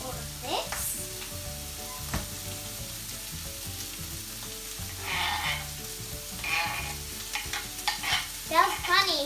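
Liver salad mixture being stirred in a pan, a continuous low sizzle with scraping and clinking stirring strokes that grow busier toward the end.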